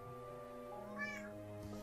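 Cartoonish cat meows from the video game Desktop Dungeons, one short rising meow sounding briefly over a steady droning game music bed.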